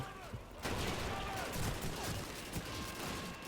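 Machine gun fire from the video game Call of Duty 2 rattles in dense, continuous bursts for most of the clip after a quieter opening, loud and close, with a voice faintly under the shooting.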